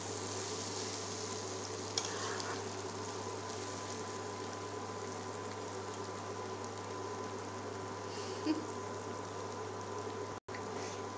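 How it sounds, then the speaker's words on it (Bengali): Egg and potato bhaji frying in a pan, giving a steady low sizzle with a constant hum underneath and only a couple of faint clicks, no one talking. "দশ মিনিট ধরে ভাজিটাকে ভাজতে হবে"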